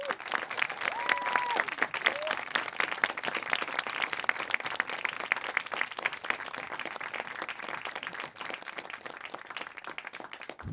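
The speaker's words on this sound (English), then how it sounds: "let's give a warm round of applause to Andrew Gallimore and Donald Hoffman" Warm, steady applause from a live audience honoring speakers at the close of an event, a dense continuous patter of many hands at moderate distance, with a brief voice near the start.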